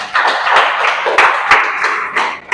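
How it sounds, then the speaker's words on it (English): A class claps for a student during a live pharmaceutical calculations lesson, a short burst of steady, close applause from several people with a few louder individual claps. "can we clap for her again, please?"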